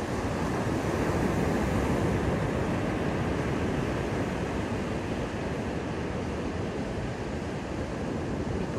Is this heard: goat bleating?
no